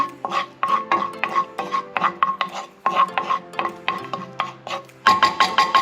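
A spoon works through a salmon marinade of soy sauce and lime juice in a bowl, giving steady rhythmic scraping and clinking strokes, close and fairly loud, with a brief pause before a final quicker burst.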